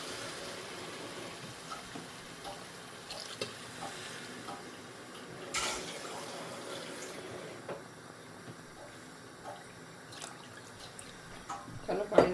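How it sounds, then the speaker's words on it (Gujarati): Water goes into a pan of hilsa fish curry with spices, a soft continuous splashing and hiss with small stirring knocks, louder clatter near the end. "ચાલો હવે પાણી નાખી દઈએ આપણે."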